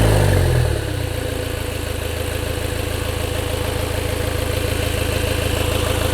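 A car engine settles into a steady, even idle after a brief higher rev at the start, running loud and close with a constant low hum after an intake cleaner spray treatment.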